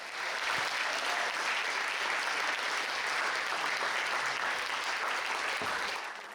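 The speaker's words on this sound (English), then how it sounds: "So a massive round of applause for them as well" A school audience at a Battle of the Bands event gives the music staff a big round of applause, loud, continuous and evenly sustained clapping from a full crowd that fades slightly at the end.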